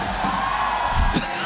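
A large crowd at an MPL Malaysia esports playoff event cheers and whoops in a continuous roar that swells briefly near the end.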